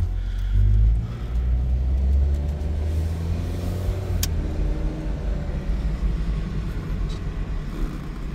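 Steady low rumble of a 2009 Chevy Cobalt LS with a four-speed automatic driving with its windows down, engine and road noise droning evenly throughout.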